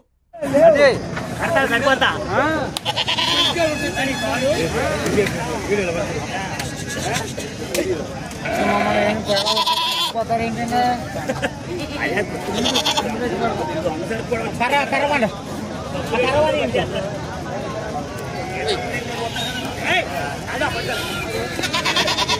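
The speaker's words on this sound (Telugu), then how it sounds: "మేకలు అయితే చాలా ఉన్నాయండి ఇక్కడ సంతలోనే" Goats bleat repeatedly amid a busy crowd, with voices chattering and bargaining all around in the noisy outdoor Saturday goat market at Tadepalligudem.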